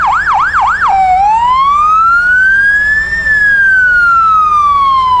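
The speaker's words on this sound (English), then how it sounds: "Sirens are part of the parade." Siren on a 1955 Chevy Bel Air sheriff's car in a festival parade, loud and close: a rapid yelp cycling for about a second, then a long slow wail that rises and falls, over a steady low background rumble.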